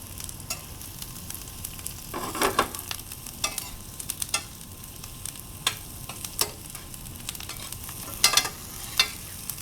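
Onions and garlic frying in browning butter in a pan, a steady low sizzle broken by several louder bursts of stirring and scraping spread through the stretch, fairly close, with no talking.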